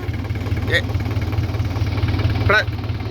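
A tractor drives along a field bund, pressing the earthen ridge down with its front tyre. Its low engine drone runs steady and close throughout, with two brief high chirps riding above it.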